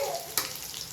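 Chopped onion frying in oil with cumin and mustard seeds for chicken biryani, a steady close hiss of sizzling with one brief sharp burst as it is stirred or added.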